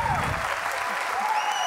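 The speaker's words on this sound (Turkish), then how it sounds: "Alkışlarla uğurluyoruz" Studio audience applause on the Turkish TV quiz show Kim Milyoner Olmak İster?, a dense steady clapping throughout a short burst with faint voices underneath.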